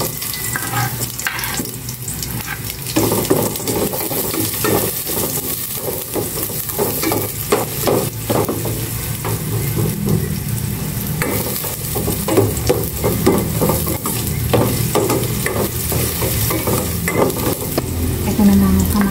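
Onions fry in a hot pan while being stirred, producing a continuous loud sizzle broken by repeated scraping and clattering strokes of the spatula, close and sustained, with no speech.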